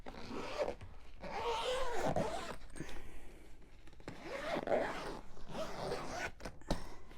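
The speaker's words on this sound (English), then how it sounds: "it'll be time to zip it out" A suitcase being zipped shut while packing for a cruise, several long rasping zipper pulls in quick succession with short pauses between strokes, close and clear with no talking.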